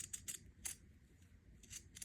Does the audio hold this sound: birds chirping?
no